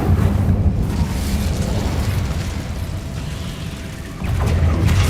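A fiery Incendio spell bursts in Hogwarts Legacy, a loud roaring whoosh of flame that sustains for several seconds and swells again near the end.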